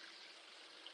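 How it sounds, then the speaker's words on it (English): Water left running from an open tap or hose at a building site, a steady unbroken hiss and trickle, faint and continuous with no talk over it. "got to cut my water off again"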